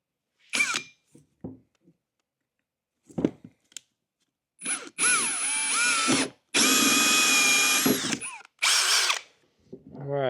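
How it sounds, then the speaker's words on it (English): Hole saw drilling openings for campervan freshwater plumbing: several short power-drill bursts start and stop, then longer loud grinding runs of the spinning saw cutting through, close by with brief pauses between. "Next thing you do is grab a hole saw that is smaller than this opening."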